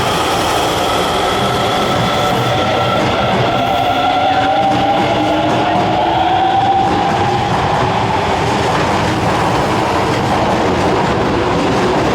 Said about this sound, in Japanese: The train on platform 2 is bound for Shojaku via Nipponbashi.